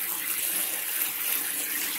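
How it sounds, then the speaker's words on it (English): Cold tap water runs steadily over cooked lasagna noodles in a sink, a continuous close hiss and splash with no talking. "we'll just wash it with the cold water."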